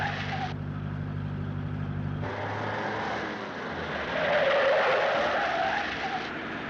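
A 1937-era car being driven, heard as a steady engine drone and road noise that shifts character partway through, with a swelling tire-like squeal in the middle; moderately loud, no talk.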